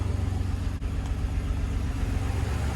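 A rebuilt Nissan G35 engine runs at a steady, loud idle with a deep, continuous rumble and a rattle mixed into it, with no voices over the sound.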